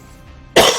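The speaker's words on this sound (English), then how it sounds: "Still have a little bit of a cough." A single short, close cough bursts out after near silence, loud and sharp at first and fading quickly.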